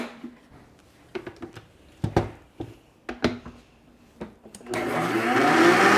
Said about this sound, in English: I'm going to put it in my blender and I'm going to whip this up